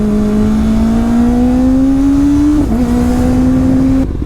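A Kawasaki ZX6R motorcycle with a LeoVince exhaust revving loudly nearby, its engine tone climbing steadily, then dipping briefly with a burble of small pops before rising again and cutting off.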